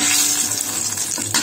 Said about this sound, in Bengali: সর্ষে ফোড়ন দিয়ে দিলাম